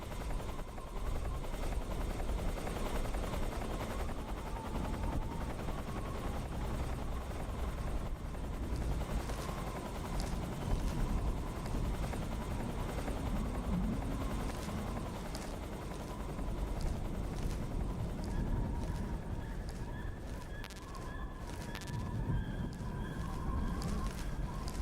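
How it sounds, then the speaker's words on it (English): A helicopter circles overhead in the stealth game Metal Gear Solid 3: Snake Eater, its steady rotor drone filling the whole stretch at an even level with no voices, while a faint high tone enters near the end. "That helicopter keeps doing rounds."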